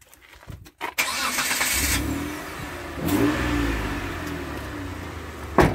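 A black 2004 Mitsubishi Delica with a 3-litre petrol V6 turns over and catches, then settles into a steady, loud, close idle with a swell of revving partway through and a sharp knock at the end.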